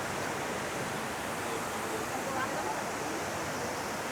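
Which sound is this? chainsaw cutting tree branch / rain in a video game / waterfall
waterfall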